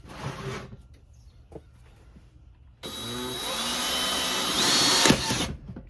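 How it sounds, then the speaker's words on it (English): A power drill bores holes in a plastic container for winter sowing, running in a couple of brief bursts and then a long steady whine that rises in pitch, loud and close. "We're just going to go ahead and start drilling the holes."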